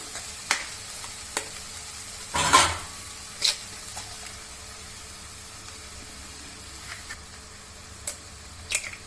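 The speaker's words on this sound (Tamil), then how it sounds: "இதில் கரம் மசாலா மிளகாத்தூள் போட்டு நல்லா வதக்கியாச்சு இதில் நம்ம முட்டை சேர்த்துக்கலாம்" Spiced egg mixture with garam masala and chili powder fries in a pan: a soft, low steady sizzle punctuated by a handful of sharp utensil clinks and stirring knocks, close and intermittent.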